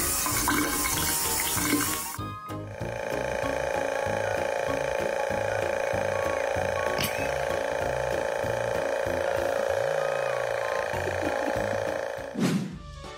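Water runs steadily from a tap with a continuous splashing hiss, while a voice talks faintly underneath.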